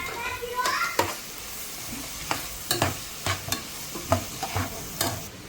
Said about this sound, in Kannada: ಆನಿಯನ್ಸ್ ಮತ್ತು ಹಸಿರು ಮೆಣಸಿನ್ಕಾಯಿ ಹಾಕ್ಕೊಂಡು ಚೆನ್ನಾಗಿ ಫ್ರೈ ಮಾಡ್ಕೊಳ್ತಾ ಇದ್ದೀನಿ